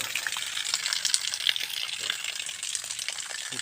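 A stream of water pours steadily from an outdoor spout where farmers drink, a continuous close rushing splatter with a faint voice underneath.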